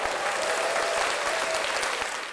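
A short burst of dense, continuous applause from a crowd, loud and even throughout, fading slightly at the end.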